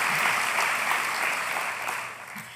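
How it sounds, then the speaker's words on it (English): An audience at a university convocation applauds, a broad, dense burst of clapping that holds steady and then begins to fade toward the end. "You deserve a round of applause for that exceptional"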